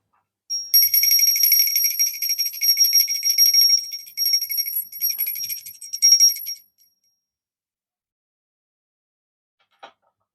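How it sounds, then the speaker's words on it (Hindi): Handbell rung during a Hindu bhog food offering to Radha Rani and Laddu Gopal at a home shrine, a steady close metallic ringing for about six seconds, then a single faint tinkle after a pause. "तो हम बजाएंगे घंटी और लगा देंगे भोग।"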